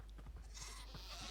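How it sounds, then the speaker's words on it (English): A horde of goats bleating in Minecraft, the overlapping game bleats faint and continuous over a steady low hum with no talk. "It's a horde of goats."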